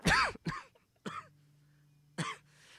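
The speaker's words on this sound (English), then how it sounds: "I'm sorry, I got this cough." A person coughs three or four times in short, harsh bursts with pauses between them, close and fairly loud, with a faint steady hum underneath.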